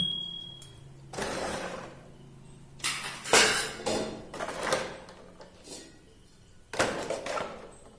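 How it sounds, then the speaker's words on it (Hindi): Steel utensils set into a homemade plate holder stand: a string of clattering metallic clanks and scrapes at close range, several bursts coming irregularly with short pauses between them. "तो चलिए इसमें जो है अपना हम बर्तन रख के देखते हैं।"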